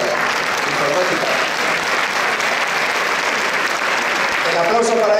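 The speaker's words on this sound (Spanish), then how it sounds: "El aplauso para ellos, para Felipe y para Joaquina" Audience applause for an elderly couple at a golden wedding anniversary celebration on Valentine's Day, a dense, steady wash of many hands clapping that fills the room throughout, with a voice briefly audible near the end.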